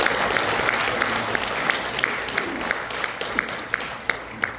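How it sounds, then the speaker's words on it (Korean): A church congregation at a dawn prayer service claps steadily for the worship team, a dense wash of applause with a few sharper claps standing out near the front, no talking over it. "오늘 특별히 우리 찬양팀을 위해서 우리 박수 한번 할까요?"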